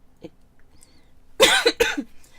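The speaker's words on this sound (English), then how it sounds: "Sorry, coughing." Two sharp coughs in quick succession near the end, close and loud, following a quiet stretch with faint background noise.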